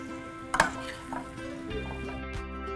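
Green onions are stirred into leftover hash in a pan, giving a few soft scraping and clinking strokes of a utensil over a faint steady sizzle, with no talking.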